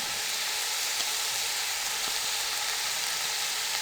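Boiled shredded chicken added to a pan of frying macaroni and vegetable mixture, with a steady, even sizzle close up throughout and no speech.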